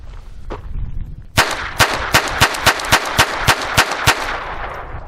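A Phoenix Arms HP22A .22 pistol fires about a dozen sharp, loud shots in a quick, fairly even rhythm, each crack ringing briefly with outdoor echo, no talk.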